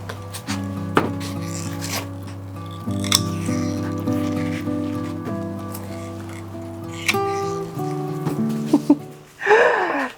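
Secateurs snip salad cucumbers off a garden plant, giving sharp, scattered clicks and cuts among rustling leaves, with a low hum running beneath and a louder rustle near the end.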